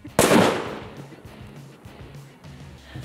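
A plastic bottle bursts from built-up hydrogen gas pressure in a homemade experiment, one sharp loud bang that decays quickly into a low, quieter rumble of background noise.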